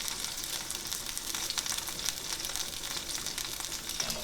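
Butter sizzling with sage in a pan gives a steady, close crackling fry that stays fairly even throughout, with no talk over it.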